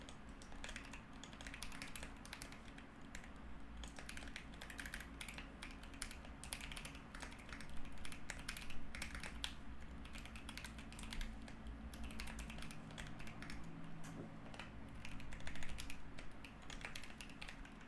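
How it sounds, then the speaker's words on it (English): Rapid, continuous clicking of keys on a computer keyboard, fairly quiet and close over a steady background hum, with bursts of fast typing and no pauses long enough to break the rhythm. "I can't type"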